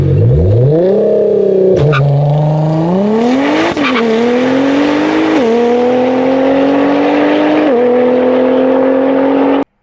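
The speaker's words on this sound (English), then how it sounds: "That's a fast ass car, right? Nice sounding car, right?" A Nissan GT-R sports car accelerates hard through several gears, its loud engine note climbing and dropping at each shift over about ten seconds, close and dominant with no talk.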